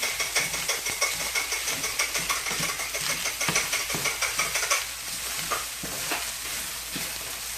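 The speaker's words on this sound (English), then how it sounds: "reheating the rice and the vegetables and working in the butter so it doesn't get clumpy and sticky" Rice and vegetables are reheated and worked into butter in a frying pan for fried rice, giving a steady close sizzle with continual scraping and stirring and no talking.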